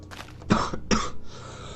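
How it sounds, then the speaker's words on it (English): Two sharp, heavy coughs in close succession, fairly near, followed by a brief raspy exhale, with a couple of softer breathy sounds before them. "I am still coughing"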